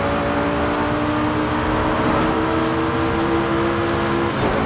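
Audi R8 in Forza Horizon 5 on Xbox Series X, its engine droning loud and constant with a steady high whine that holds a near-level pitch and eases slightly near the end.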